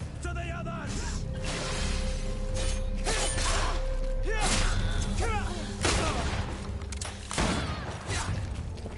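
Gunfire and clanking mechanical action in the fantasy game Greedfall, a series of sharp shots and metallic ratchets amid battle noise, with voices shouting over the fighting.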